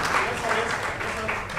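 An audience applauds at the NTA Awards 2024 open mic event: a steady wash of clapping runs through the whole moment, mixed with a speaking voice.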